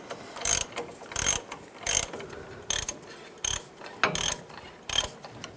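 A hand ratchet tightens brake backing plate bolts on a 2011-2018 Ram 1500, with seven short, crisp bursts of rapid clicking at a steady pace and quiet pauses between them, heard up close.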